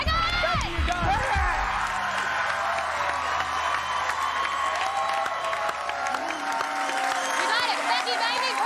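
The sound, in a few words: game show studio audience cheering and applauding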